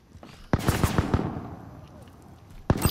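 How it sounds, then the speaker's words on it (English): Bursts of video game gunfire crackle in quick sharp volleys, then trail off into a scattered noisy wash before another close burst near the end; players talk over the fighting. "Bullets everywhere."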